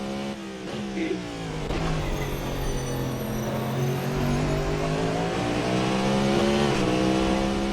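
Cadillac V-Series.R race car in the Assetto Corsa racing game, its engine droning and revving through shifting tones, climbing steadily in pitch and loudness over several seconds, heard alone without talk.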